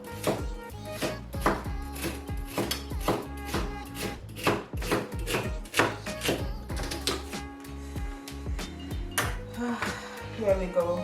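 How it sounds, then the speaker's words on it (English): A knife chops celery on a cutting board in a kitchen while potatoes boil, giving a steady run of sharp, close taps with brief pauses and light clinks of utensils mixed in. "So I'm cutting my celery right now"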